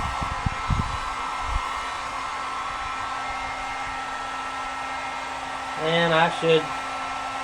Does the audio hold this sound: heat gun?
yes